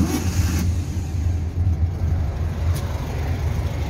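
A Volkswagen Beetle engine, noted for rough running, idles after starting without the throttle. A steady low mechanical rumble continues close by, with a brief higher burst at the start and no speech.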